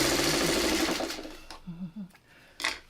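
A sewing machine stitches a pattern in a fast, close, continuous rattle for just over a second, then gives a few short, softer bursts of stitching before falling quiet.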